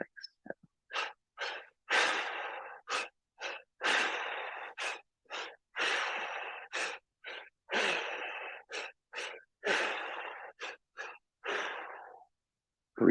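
Slow, steady meditation breathing during a morning session: a long run of breathy inhales and exhales, repeated in an even rhythm, close and fairly loud, with short silent gaps between breaths and no talking.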